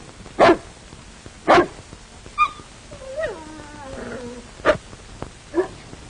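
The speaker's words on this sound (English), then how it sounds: "That looks like the dog I saw you feeding at the game warden's grave." A dog gives several sharp barks spaced a second or so apart, with a short whining, moaning yelp in the middle, close and clear against a quiet background.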